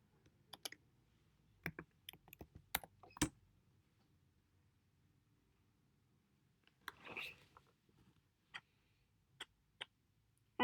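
Sparse, quiet keystrokes on a computer keyboard come in irregular taps and short bursts, with a brief louder rustle in the middle, in an otherwise near-silent room.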